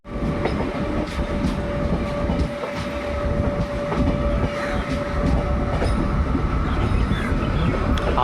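Train at Basin Bridge station in Chennai, a loud continuous rumble of rolling rail cars with a steady tonal whine and faint clicking of wheels, heard from close by without any talking.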